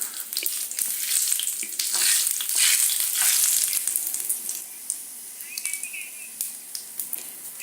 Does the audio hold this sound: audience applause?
no